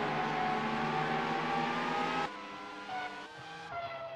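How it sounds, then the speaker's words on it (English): A pack of Formula One cars in GP4 racing at the 2003 British round, their high-pitched engines whining together and shifting pitch as they pass closely, loud and continuous. "And now we see this whole group of cars, just a complete mess of cars."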